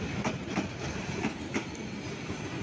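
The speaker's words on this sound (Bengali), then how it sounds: "এটা উত্তরবঙ্গগামী আন্তনগর ট্রেন।" North Bengal bound intercity passenger train passing near a level crossing in the morning, a continuous rumbling roar with regular clickety-clack wheel beats at moderate distance.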